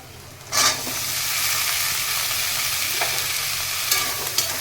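A sudden burst of sizzling as potatoes hit a pan of fried onions, settling into a steady frying hiss with a few stirring clicks.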